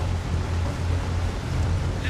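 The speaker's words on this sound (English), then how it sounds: "Water is loud." Loud, steady rushing water in a relaxing driving video game, a continuous low roar and wash like waves or surf with wind-like noise, filling the whole scene without a break.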